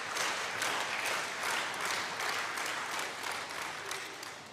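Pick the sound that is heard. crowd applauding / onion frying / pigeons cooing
crowd applauding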